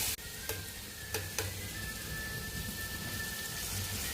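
Masala sautéing in hot oil for ragda, a steady broadband sizzle and hiss with a few sharp spatters and clicks early on, close and even throughout.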